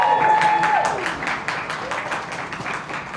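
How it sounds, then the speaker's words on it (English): A press-conference audience for the F1 movie applauds to welcome its guests, a short burst of scattered clapping under a host's voice. "A round of applause for them"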